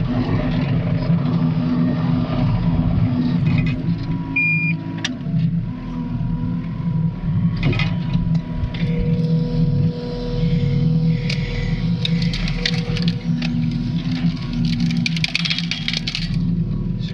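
An excavator engine running steadily close by while it pokes a rubbish fire, a constant low diesel drone with rises in revs, clanks and hydraulic whines over the rumble.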